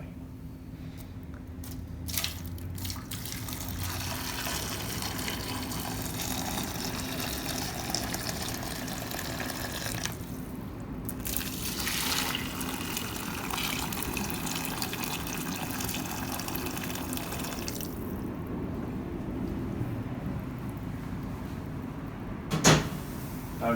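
Hotpot stock pours slowly and steadily into a pot, a continuous watery rush and gush lasting throughout with a few shifts in flow and a knock near the end, no talking.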